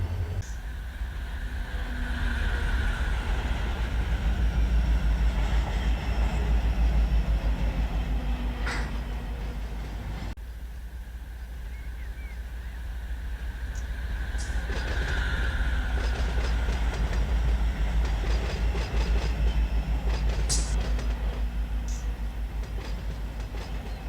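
A CSX freight train of boxcars rolling steadily in the Run8 Train Simulator, with a continuous low rumble, wheel noise and scattered clicks and clacks, swelling and easing slightly over time.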